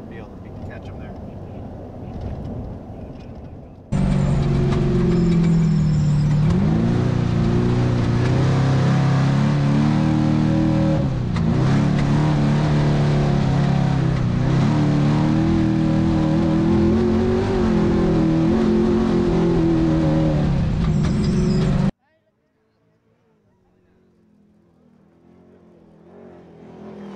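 A race truck in the 2019 Baja 500 drives over dirt near the summit while trailing another truck, its engine a loud, steady roar that starts abruptly, holds for most of the stretch and cuts off, with voices over it.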